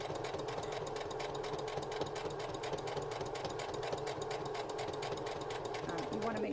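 Sewing machine top stitching the pocket of an Aspen pullover, a steady continuous mechanical whir running close and even throughout, with talk over it.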